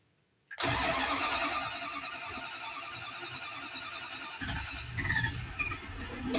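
A 1981 Dodge Ram 250 engine cranks briefly and catches, then settles into a rough, loud idle nearby, with a squealing note and some revving surges near the end.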